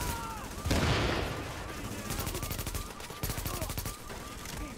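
Rapid gunfire in The Division, with dense automatic bursts and sharp cracking shots rattling continuously over a loud battle backdrop, and a burst of heavier blast early on.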